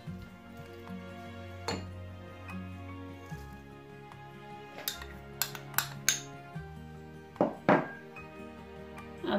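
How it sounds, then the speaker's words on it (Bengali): Pieces of meat and fried onions go into a cooking pot for Chittagong-style kala bhuna, heard as scattered metallic clinks, soft thuds and wet squishes over a low background hum, close by. "এখন আমি মাংসগুলো ফাতিলাতে দিয়ে দিচ্ছি, ও বেরেস্তাগুলা"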